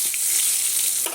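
Potol slices fry hard in a pan, a dense, close sizzle of hot oil that runs steadily without pause, with no voices over it.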